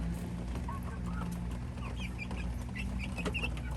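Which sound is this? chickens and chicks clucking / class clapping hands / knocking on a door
chickens and chicks clucking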